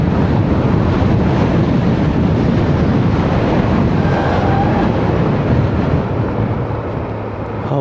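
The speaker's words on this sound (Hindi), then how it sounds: "हवा चल रही है तगड़ी वाली यहाँ पे।" Strong wind gusting through a mountain valley on the road from Joshimath to Badrinath, a loud, continuous roar and buffeting of the microphone with no talk.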